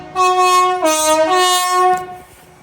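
Train horn from a train running in diesel mode on a diverted Edinburgh–King's Cross service at Carlisle, a loud two-tone blast lasting about two seconds with a pitch step midway, close and clear.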